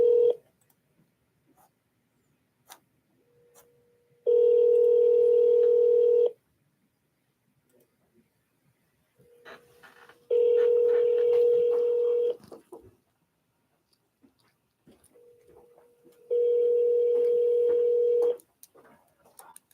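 A telephone call rings out in three long, loud electronic tones spaced a few seconds apart, with faint clicks and quiet gaps between, before the line goes to voicemail.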